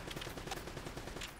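Gunfire in the video game Uncharted: Drake's Fortune comes as a dense, continuous rattle of rapid shots under a steady wash of battle noise, with no pauses across the short stretch.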